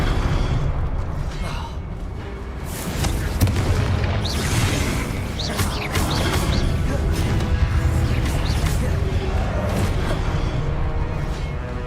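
Fire-spell blasts from Hogwarts Legacy, a run of loud booming bursts and crackling whooshes layered over a steady roar of combat effects, close and continuous with no talking.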